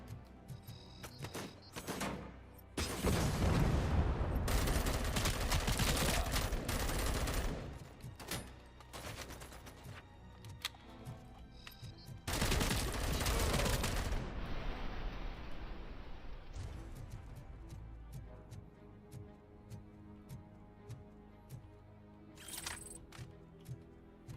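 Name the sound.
assault rifle gunfire in Robocop video game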